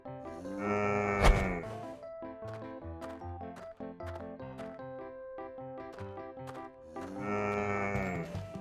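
Cartoon cows moo loudly, one long drawn-out low at the start and another near the end, with a busy plucked musical score and small knocks in between; no talk.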